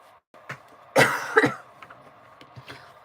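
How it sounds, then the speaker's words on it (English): A single throat-clearing cough, two close bursts, breaks the quiet of a knitting session while someone sews up a finished knitted piece. It is near and fairly loud against faint room sound. "Sorry about that,"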